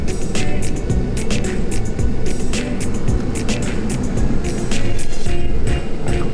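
An RV rolls through a parking lot, giving a loud, steady engine and road rumble with rattling and clatter from the rig throughout, and no voices.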